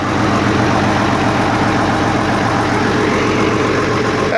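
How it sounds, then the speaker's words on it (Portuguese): An FNM 180 truck engine runs after sitting idle for three years, a loud, steady diesel idle with a dense low rumble and even knocking throb, close and continuous with no talking. "ele queria ouvir o barulho do motor, o motor tá zero"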